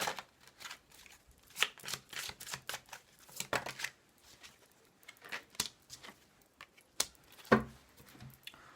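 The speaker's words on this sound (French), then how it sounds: "Et je vais vous tirer une carte." Tarot cards are shuffled and drawn from a deck, producing soft, quiet bursts of papery flicks and slaps in an irregular rhythm, close and unaccompanied by talk.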